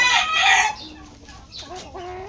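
A backyard flock of chickens sounds off up close: a loud burst of clucking and a rooster crow, then quieter rising calls trailing away.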